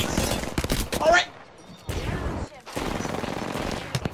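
Mortar and artillery strike in the Apex Legends battle royale game, a burst of gunfire-like impacts and booms with a whistling streak, then fading and resuming as heavier rumbling fire, loud and close under players shouting.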